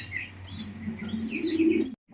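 Fancy pigeons, including a young bird and a hen, coo softly in low, throaty murmurs, with a few brighter chirps above, all close by and continuous for about two seconds before stopping abruptly.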